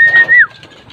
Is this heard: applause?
no